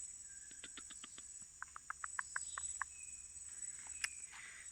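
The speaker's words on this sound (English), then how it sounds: "Woodpecker." A woodpecker in a Costa Rican forest near Golfito gives a quick series of about a dozen sharp, evenly spaced knocks, moderately faint, over a steady high insect chorus.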